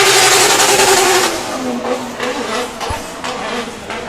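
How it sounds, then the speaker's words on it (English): A drift car in British Drift Championship pro qualifying at Teesside, engine held against the rev limiter, with a loud continuous buzzing drone that stutters and bounces rapidly, fading slightly as the car moves away. "he's feathering the rev limiter there"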